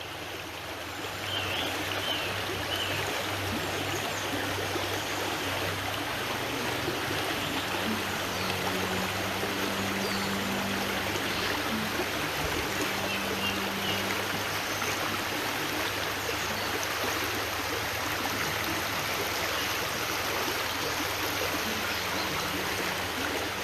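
A woodland stream flowing steadily over rocks, a constant broadband rushing and babbling of water that stays even throughout with no voices.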